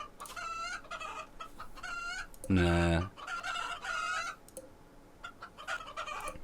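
Chicken clucking in the video game RimWorld, a series of close, repeated clucks in short bursts with one louder, longer call in the middle, and someone speaking faintly at times.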